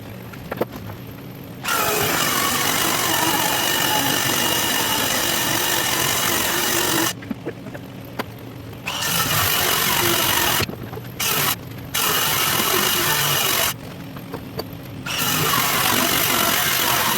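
A power sander works birch boards for a queen-size bed's headboard and footboard, a loud, steady whirring grind broken by several short pauses where the tool stops and restarts.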